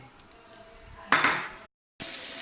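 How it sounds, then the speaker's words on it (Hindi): Onions dropped into hot oil in a pan burst into a sudden loud sizzle after a few faint utensil clinks, then the sound cuts out briefly before the frying hiss returns. "इसमें हम ये प्याज ऐड कर रहे हैं।"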